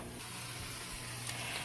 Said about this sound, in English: If you hear the sizzling, that is actually bacon.